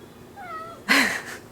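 A cat gives a single clear meow up close, preceded by a faint high chirp, with quiet room noise behind it.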